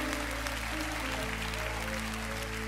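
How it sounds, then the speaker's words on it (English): A church congregation claps in praise during a live worship service, a dense steady wash of applause at moderate level with sustained organ or keyboard tones underneath. "give God a hand clap of praise in this place this morning"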